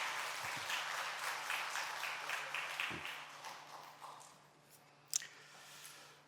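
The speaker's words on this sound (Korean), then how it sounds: "큰 박수로 다시 한번 축하해 주시기 바랍니다" A church congregation claps together during a Sunday worship service, a dense round of applause that gradually fades, ending with a single sharp click.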